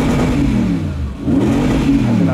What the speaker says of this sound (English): So, guys, this is how an engine should sound